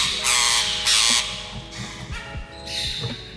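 A hand-raised pet bird at a breeder's aviary gives harsh, loud squawks in several close bursts, followed by softer scratchy chatter and clicks, with no talking.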